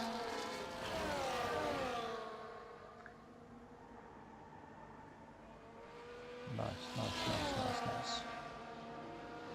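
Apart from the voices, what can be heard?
race cars passing in a racing video game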